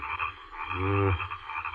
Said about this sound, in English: these eternal frogs will drive me mad. It's the rain that brings them up.